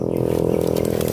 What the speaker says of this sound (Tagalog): Apa yung motor oh.